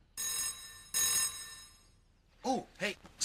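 An old-style telephone bell rings twice in loud bursts, then a voice starts talking.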